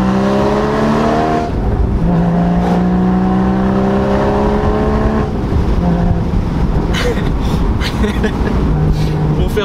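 Porsche Boxster 981 Spyder with a mid-rear engine, driving with loud engine and exhaust tones rising through revs, dropping at a gear change, then climbing again, steady and close throughout.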